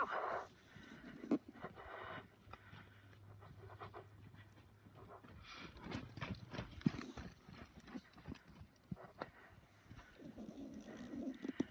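Horse hooves shuffle and step on the ground during a rope groundwork session, faint, irregular footfalls with the horse's breathing and soft snorts, distant and quiet.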